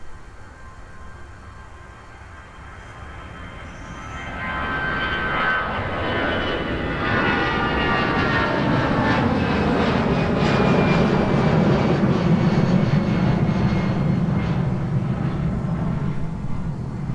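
An American Airlines jet departs Minneapolis–Saint Paul on a muggy winter day, its engine roar swelling from near silence after about four seconds into a loud, sustained rumble with rising whine that holds steady to the end.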